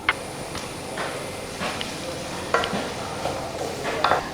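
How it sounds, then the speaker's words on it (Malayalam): Chopped small onions are sautéed in a pan for a Kerala fish recipe, with a soft steady sizzle and repeated scraping stirs from a spoon knocking against the pan at a close range. "ഇതിനകത്തോടെ നമ്മൾ അരിഞ്ഞു വെച്ചിരിക്കുന്ന ചെറിയ ഉള്ളി ചേർത്ത് കൊടുക്കാം. എന്നിട്ടൊന്ന് വഴറ്റി കൊടുക്കുക."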